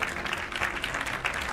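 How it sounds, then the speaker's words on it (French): A short burst of clapping from a small group, brief and fairly faint, with a steady patter of hands. "Allez, gros applaudissements"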